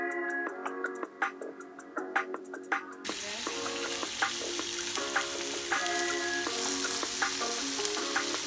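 Onions sizzle steadily in a hot pan at low volume, under a light ticking, stirring clatter with a repeating tonal pattern.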